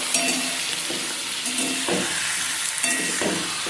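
Tomatoes for a spicy ripe-tomato chutney fry in a pan with a loud, steady sizzle, punctuated by repeated rhythmic spatula scrapes and stirs at regular intervals, nothing else audible.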